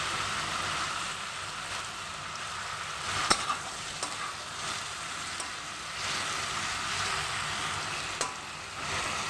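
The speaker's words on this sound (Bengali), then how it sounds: "কাঁচা পেঁয়াজটা দিয়ে আমি কিছুক্ষণ একটু নেড়ে চেড়ে নেব।" Raw onion being stirred into vegetables frying in a pan, a steady close sizzle with scraping and clinks of the spoon against the pan, no talking.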